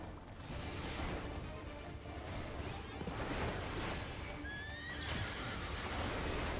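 A dragon lightning horse whinnies in Final Fantasy XIV over a dense, noisy rumble of game sounds, with hooves and a sharp crash mixed in.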